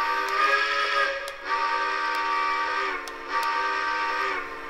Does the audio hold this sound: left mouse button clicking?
no